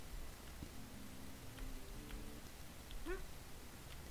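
A cat gives one short meow out in the rain, faint against a steady wash of rainfall, with a brief low tonal sound early on.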